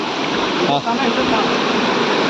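Stream water in a village, rushing loudly and steadily close by in a continuous broadband roar with no letup.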